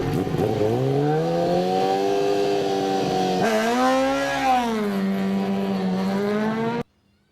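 An Isle of Man TT motorcycle races at high speed, its engine a loud, close, sustained high-pitched whine that holds steady, shifts pitch sharply midway as it passes, then drops and cuts off abruptly, with no voices.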